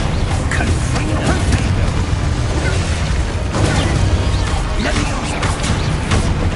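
Confringo blasting-spell explosions in Hogwarts Legacy boom and crash in a loud, steady barrage, tangled with creaking mechanical effects and game noise.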